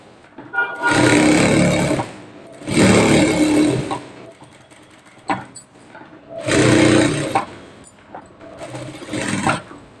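Sewing machine stitching a garment lining, loud close bursts of rapid mechanical whirring in four runs separated by short pauses with small clicks.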